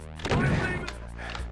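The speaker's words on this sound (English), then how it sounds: "And then let's use rockets here." Rocket launcher fired in the video game Voxel Doom 2: a heavy, booming blast and crashing explosion, loud and close, over a humming game background.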